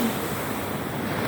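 Ocean surf crashes and washes continuously along the shore at a beach resort, a dense roar with wind buffeting the microphone, close and fairly loud.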